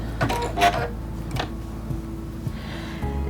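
A Quantum Stylist 9960 sewing machine stitches fabric with a steady low motor hum and a fast rhythmic needle clatter, close and continuous, ending with a brief shift in tone.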